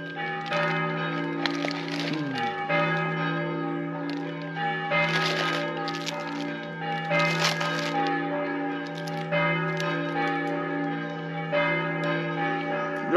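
Church bells peal continuously outdoors at a rest stop in western Slovenia during an e-bike tour, steady overlapping rings with sustained tones, loud and close, with no talk over them.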